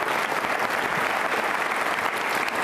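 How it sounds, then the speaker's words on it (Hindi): Loud, dense applause from an audience at an NCC cadets' Independence Day quiz show, a steady roar of clapping that holds for the whole stretch. "कर्नल PM मीना, उनके सम्मान में भी जोरदार तालियां बजाइए आप"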